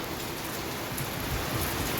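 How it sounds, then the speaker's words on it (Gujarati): Steady rain falling on a surface in Surat, a constant hiss with scattered drops, fairly soft and even throughout. "સુરતની અંદર વરસાદ ચાલુ થઈ ગયો છે"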